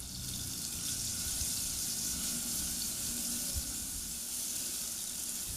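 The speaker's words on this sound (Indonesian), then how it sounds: "Kemudian ini kita tumis sampai harum." Ground spice paste sautéing in hot oil, a steady close sizzle with a constant bright hiss running evenly throughout, no voices.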